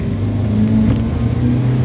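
An ALS intercity bus on the Medan route, number 347, speeds along the Palembang–Jambi eastern highway at night, a close steady engine roar with a rising whir and rushing road noise.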